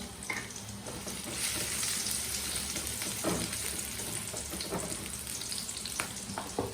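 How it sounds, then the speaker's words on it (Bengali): Chopped garlic fries in a little oil in a wok over lowered heat, giving a continuous close sizzle with scattered crackles and light scraping throughout. "এখন দিয়ে দিচ্ছি রসুন কুচি।"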